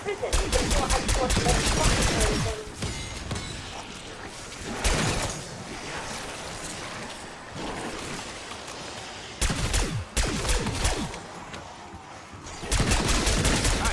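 Ray Gun Mark II submachine gun firing in Black Ops 6 video game: loud, dense bursts of rapid automatic fire in several long strings, separated by short pauses with quieter background game noise.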